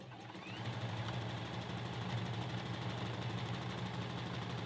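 A sewing machine stitching a knit neckband onto a dolman top runs in a steady, fast mechanical whir, a rapid even chatter that starts after a brief pause and continues alone at low volume.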